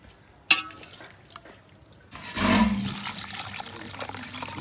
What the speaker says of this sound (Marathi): थोडं पाणी ओतून घेऊ आता